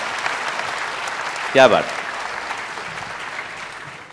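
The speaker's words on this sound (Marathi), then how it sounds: "नाही, टाळ्या कमी वाजल्या" An audience claps at a talk on cancer testing, an even patter of many hands that continues throughout, with a short spoken exclamation partway through.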